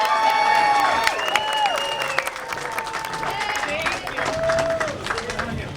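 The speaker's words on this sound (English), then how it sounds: "Let's give them another round of applause." A crowd at an outdoor community day event gives another round of applause, a dense ongoing patter of clapping with some cheering, mixed with nearby voices throughout.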